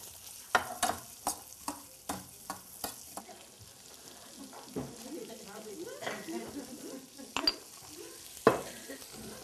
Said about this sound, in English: it's always okay to saute your onions a little bit longer